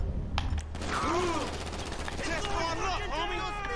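Gunfire in GTA 5: rapid bursts of shots crackle during a street fight, mixed with game sounds and someone talking excitedly over the action.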